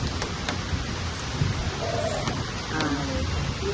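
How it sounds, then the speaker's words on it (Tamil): A heavy downpour near trees and hills, with a thick, constant hiss broken by a few sharp thunder cracks and faint rumbles, loud and close with no voices. "இப்படி மழை பெய்து வச்சுக்கலாம்."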